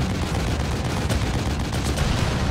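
Dense, continuous rapid gunfire with booming bursts fills the space, sustained and loud without pause, like an intense battle in the game The Evil Within.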